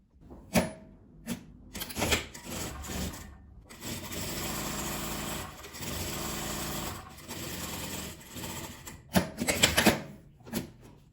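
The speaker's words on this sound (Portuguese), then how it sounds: "Agora eu vou ir lá na máquina e vou passar uma costura nessa parte de cima toda." Sewing machine stitching a seam along the top of fabric, running in short bursts and then longer steady runs, close and fairly loud, with handling clatter between passes.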